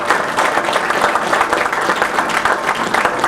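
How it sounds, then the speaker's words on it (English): Steady applause from an indoor crowd at a city council economic development announcement, loud and continuous clapping throughout with no speech over it. "Give them a round of applause."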